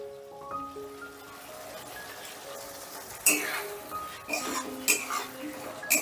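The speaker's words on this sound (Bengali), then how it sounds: "পোস্ত বাটাটা দিয়ে একটু নাড়াচাড়া করে নিচ্ছি" Poppy seed paste with ground cashew and sesame stirred into frying spices in a pan, heard as a few scraping and clinking stirs that grow louder toward the end, after a brief soft tonal sound at the start.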